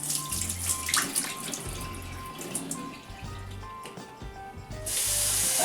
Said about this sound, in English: Now I'll empty the starchy water and put some fresh water.